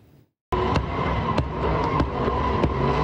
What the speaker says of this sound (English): Some Wethersfield neighbors thought it was gunshots, loud bangs coming from car exhaust pipes as they spin out in a parking lot.